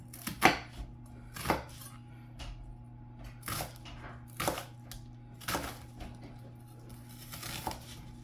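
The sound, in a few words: dicing onion on a board for chicken potpie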